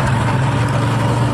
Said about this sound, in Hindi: तो अभी बाइक से हम जा रहे हैं